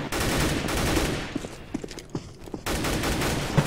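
Video game gunfire in a death match: dense, loud bursts of shots fill the opening second, thin out into scattered single cracks, then surge back into rapid automatic fire near the end.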